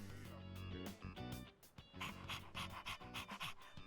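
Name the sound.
dog panting in the video game Persona 3 Reload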